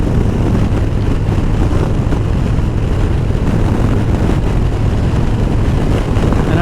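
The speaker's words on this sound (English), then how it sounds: "Starting to get a little windy, getting the outflow from that thunderstorm out there." Strong gusting wind from a thunderstorm outflow buffets the microphone in a constant, loud rush with no pauses and no talk.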